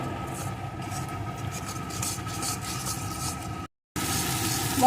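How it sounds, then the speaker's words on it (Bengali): A spice paste with turmeric and salt fries in a pan with a steady, moderate sizzle that runs continuously, briefly cut off for a moment before resuming. "একটু হলুদ গুঁড়ো স্বাদ মতো লবণ এখন মশলাটা সুন্দর করে কষিয়ে নেব"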